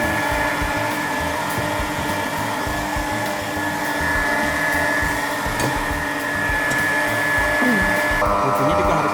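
An electric mixer whirs steadily while beating cake batter, a loud, close and continuous motor drone that barely varies in pitch throughout.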